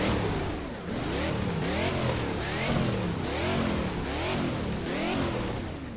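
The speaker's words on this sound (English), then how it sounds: "Let's give it a couple of revs." A Chevrolet Camaro SS engine in the Roblox game Driving Empire revs repeatedly, about six loud rising-and-falling vroom sweeps in steady rhythm, close and alone.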